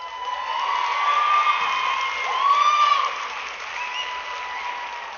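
An audience bursts into sustained applause mixed with cheering, a dense steady wash of clapping that swells and holds for several seconds before easing slightly.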